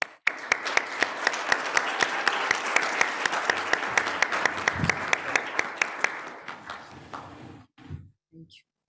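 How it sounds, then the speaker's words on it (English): Assembly delegates at a health workforce resolution session break into sustained applause, a broad, steady wash of clapping with distinct individual claps, lasting several seconds before tapering off into a few scattered sounds. "We have a new resolution to action, and I believe this requires an applaud."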